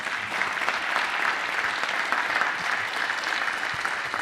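Steady, full applause from a live audience at an event, dense and evenly sustained clapping from a crowd throughout the short stretch, with no clear talking over it.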